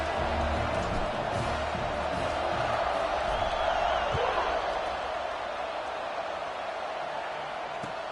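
A stadium crowd in the College Football 26 video game roars steadily at kickoff for Michigan against Nebraska, a broad, continuous wash of distant cheering that slowly fades slightly over several seconds.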